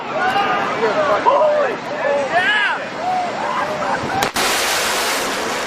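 Birds chirp over distant murmuring voices, then a single sharp, loud sonic boom cracks and leaves a lingering broadband rumble.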